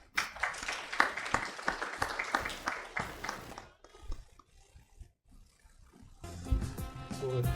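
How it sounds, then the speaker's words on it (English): Applause from a conference audience greets a panel moderator at an industry roundtable, a burst of close, brisk clapping that thins out and fades after a few seconds before other noise returns. "A round of applause to Ali."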